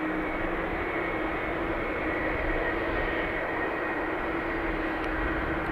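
A Lufthansa jet airliner bound for Frankfurt roars steadily at an airport, a continuous broadband engine rumble with a faint steady whine, holding loud and even throughout with no voices.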